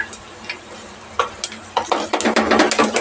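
Cumin seeds and onions frying in hot oil, quiet at first with scattered sharp pops, then breaking into dense, close crackling sputter toward the end.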